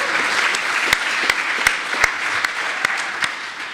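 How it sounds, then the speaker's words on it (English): A seminar audience at a drinks-chemistry session claps for a newly introduced speaker, a steady wash of applause with a few sharp, close hand claps standing out above it. "Nice round of applause."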